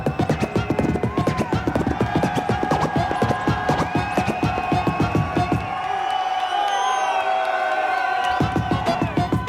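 A club crowd at a DMC DJ final roars, whoops and cheers through a scratch set, loud and continuous over pounding beats, with a brief dip before the noise surges back.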